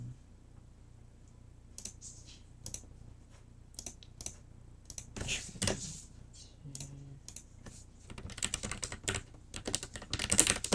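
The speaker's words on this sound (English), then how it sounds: "Do you like the new keyboard, by the way" Brisk typing on a new computer keyboard, with irregular bursts of close, crisp key clicks that grow busier and louder toward the end, over a quiet background.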